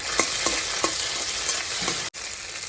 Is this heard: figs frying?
yes